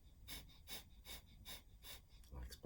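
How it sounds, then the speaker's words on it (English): Breath of fire yoga breathing: rapid, rhythmic forceful exhales through the nose like a panting dog, six even puffs about every half second, close and fairly soft. "it's a diaphragmatic exhale, and it's a bit like panting like a dog through your nose"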